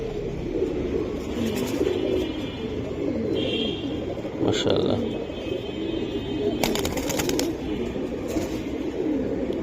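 Pigeons, a pen of silver and Giribaj tumbler birds kept for sale, coo softly and repeatedly in a steady low murmur, with a man's brief remark and some background chatter over them.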